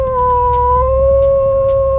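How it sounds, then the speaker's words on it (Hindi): A dog howls far off in a drawn-out, steady, wavering note over a low rumbling background, setting an eerie nighttime mood for a horror story. "ट्रेन के अलावा वहां पास एक और आवाज थी, दूर किसी कुत्ते की रोने की।"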